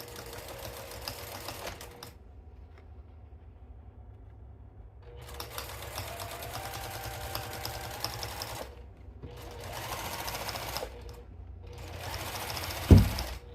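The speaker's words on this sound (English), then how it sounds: "I'm actually going to be putting my guide foot on my seam, and let me bump this up to a 4 for the top stitching." A sewing machine fitted with a guide foot top stitches along a seam in clear vinyl, whirring in several runs separated by short silent pauses, ending with a sharp knock.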